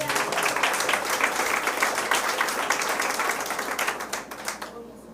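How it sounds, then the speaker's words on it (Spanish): A church congregation claps together during a pastor's sermon, the applause loud and rhythmic at first before thinning and fading out near the end. "Denle un aplauso, Señor."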